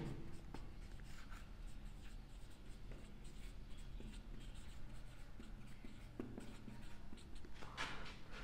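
A pen writes out a chemistry formula for hybridization, a steady faint scratching across the whole stretch with small taps and strokes, low in level with no voice over it.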